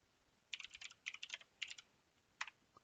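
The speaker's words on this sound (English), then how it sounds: "To see the contents of your current directory, you simply type ls." Quick keystrokes on a computer keyboard typing a short Linux shell command, two small bursts of clicks then a final keypress, fairly faint and alone.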